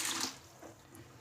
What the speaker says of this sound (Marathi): आता यामध्ये पाणी टाकून घ्यायचं आहे।